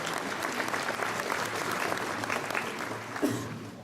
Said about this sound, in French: Vous pouvez l'applaudir, mesdames et messieurs, Loïc Pété.